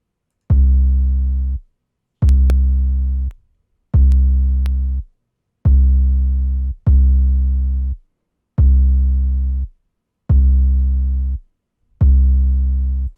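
Layered 808 bass notes play seven times in a steady pattern, each a loud, deep sustained boom that cuts off cleanly between hits, with no voices.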